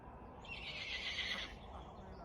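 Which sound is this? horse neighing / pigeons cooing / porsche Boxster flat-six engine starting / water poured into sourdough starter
horse neighing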